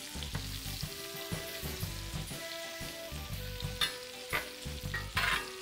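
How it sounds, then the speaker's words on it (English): Pecans sizzle and fry in butter in a pan while being stirred, a steady crackling hiss with clanks and scrapes of the utensil against the pan, close up and without speech. "Stir your pecans around a little bit."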